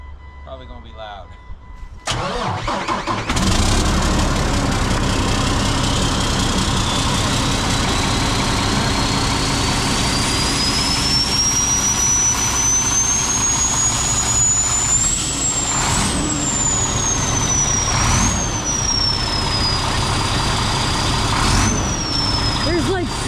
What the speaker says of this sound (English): So we got to crank the truck up, air the bags up